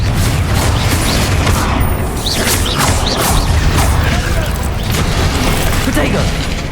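Confringo spell explosions in Hogwarts Legacy pile up in a steady barrage of booms, crashes and sharp impacts, loud and unbroken, with voices heard through the fight.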